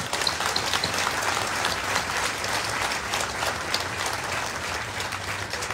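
A crowd at a consulate office opening ceremony gives sustained, even applause, with dense clapping at a steady level from start to finish.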